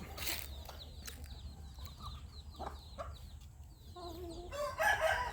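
Young Burmese roosters crow in short, reedy bursts, overlapping with soft clucks and other birds chirping in the background.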